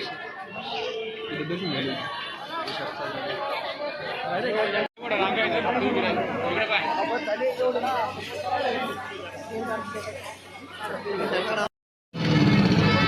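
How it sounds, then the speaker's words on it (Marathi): A dense crowd chatters at the Sant Gajanan Maharaj palkhi procession in Lonar, many voices and children mixing in a continuous close babble, briefly cut off twice. "तुम्ही गर्दी बघू शकता"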